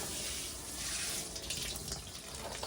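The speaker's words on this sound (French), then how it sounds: "Gaspard, il a assez arrosé" Water pours steadily from a watering can onto a garden seed bed of radishes, a soft, continuous splashing hiss close by and fairly quiet.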